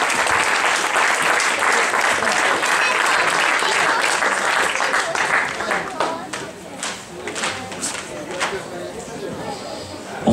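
A folk music show audience applauds a tamburitza teacher, with dense, sustained clapping that is loud at first and then thins and fades into scattered claps.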